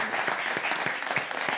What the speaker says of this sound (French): on applaudit notre première candidate